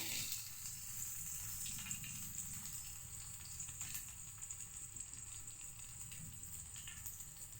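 Onions sizzling in a pan with curry leaves for chitranna, a steady, soft crackle running throughout with no talk.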